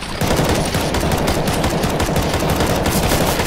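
Rapid gunfire from players shooting zombies in CS:GO Zombie Escape on a Halo CE map, a dense, continuous stream of loud automatic shots with no gaps.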